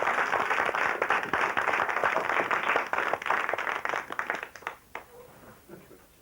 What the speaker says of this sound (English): Should the weather person get applause?